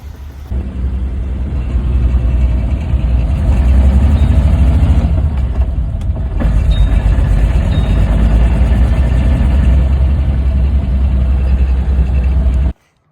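An idling BMW E30 engine runs rough and uneven for about twelve seconds, steady and close, then cuts off abruptly at the end.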